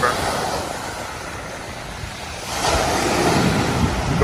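Sea waves break along Gorleston Beach during an all-night shore fishing session near a wreck, with steady surf and gusting wind noise across the microphone. The wash swells louder halfway through, and no one speaks.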